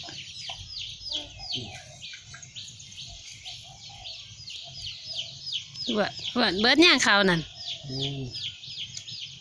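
Chickens cluck close by in a rural yard, a run of short repeated calls swelling into a louder burst of squawks midway, while people talk over them.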